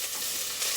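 Onions fry in a pan, a close, steady sizzling hiss with soft crackle and no voices.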